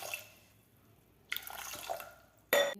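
Water poured into a pot of matki beans in a home kitchen, with a few faint drips followed by two short splashing pours, the last one louder and closer.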